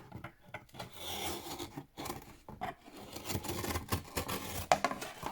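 A 4.5 inch strip of board being cut for a handmade junk journal cover gives close, dry rasping and scraping strokes in uneven bursts, with no talk.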